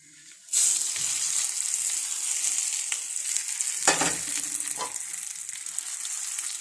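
Hot oil with popping mustard seeds hits a cooler tomato chutney, bursting into a loud, sustained sizzle with occasional crackles and stirring clinks close by.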